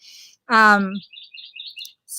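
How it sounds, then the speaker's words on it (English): Birds chirp outside on a home patio, quick high tweets and trills in short bursts, with a voice talking loudly between and over them. "You hear the birds, right? I am outside on my patio, and they are loud."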